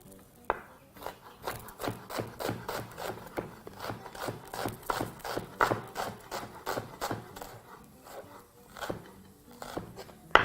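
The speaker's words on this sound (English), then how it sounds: "we're going to also proceed to have 1 red onion, which we will proceed to also chop quite finely" A knife chops a red onion finely on a board in a steady run of quick, crisp strikes that continue throughout, close up with no talk.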